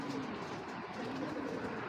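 A pair of red khaki high-flyer tournament pigeons coo faintly, a soft, low murmur buried in a steady hiss of background noise.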